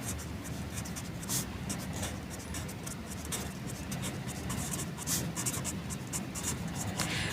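Marker or pen writing on a board during a Class X math lesson on sets: steady scratchy strokes with short squeaky accents, continuous and close, with no talking over it.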